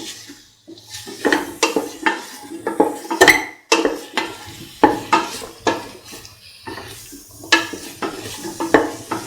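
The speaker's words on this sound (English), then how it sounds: "Mix the mixture spices of garam masala into the mixture" Garam masala spice mix being stirred into garlic potato rice in a pan, a spoon scraping and clinking against metal in a steady irregular rhythm of close, distinct knocks with faint sizzling underneath.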